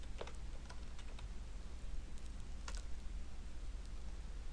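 Light, scattered keystrokes on a computer keyboard tap faintly over a low room hum as form data is entered, in brief irregular clusters with pauses between.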